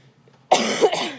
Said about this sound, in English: Expect me to be coughing through the rest of the video